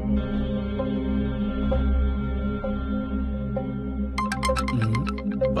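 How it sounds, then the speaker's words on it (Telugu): A mobile phone ringtone plays a repeating melodic tune, steady and fairly loud indoors, with a brighter chiming burst near the end; no one speaks over it. "ఫోన్ రింగ్ అవుతుంది."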